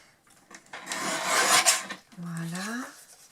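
Scissors cutting paper backgrounds for ATC cards, a sustained rasping snip and rustle of handled paper that rises, fades, then resumes, close and moderately loud with no talking.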